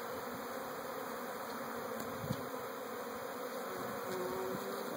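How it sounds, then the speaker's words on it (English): Dense, steady buzzing of many honeybees swarming close by around hives, a continuous droning hum with occasional nearer wingbeats passing. "keep the bees safe"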